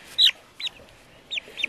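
A young chicken gives four short, high-pitched chirping clucks, spaced unevenly and heard close up against a quiet background.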